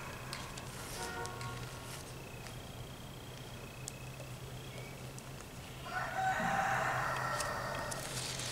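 A rooster crows in a drawn-out call over a steady low hum and background noise, fairly distant and moderately loud near the end.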